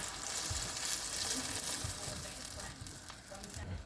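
A creamy sauce with bell pepper and heavy cream sizzles and bubbles steadily in a hot pan for chicken and mushroom pasta, a soft continuous frying hiss at moderate volume with no talking.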